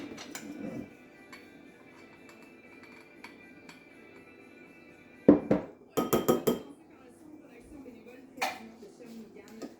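A spoon stirs a relish mixture in a bowl, giving scattered clinks and scrapes against the dish, with a cluster of quick rattling taps midway and a lone clink near the end.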